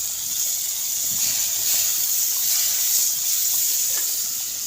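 Vegetables with ginger, garlic and cumin paste fry in a pan with a steady, bright hiss of sizzling oil, close and continuous, with faint stirring scrapes underneath.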